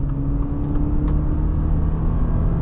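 A 2025 Subaru Forester Premium engine pulling at full throttle, a loud steady droning rumble with road noise, heard from inside the cabin without talk.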